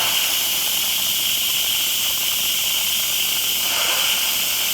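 A pressure cooker vents steam after cooking a roast, giving a steady, loud, unbroken hiss that lasts the whole time with little change.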